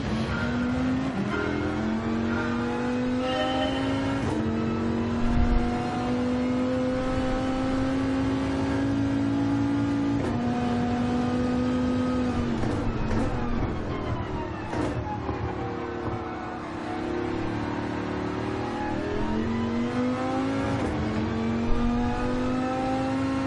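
A racing video game car engine revs continuously, its pitch climbing and dropping through gear changes as the car is thrown into corners, steady and close throughout.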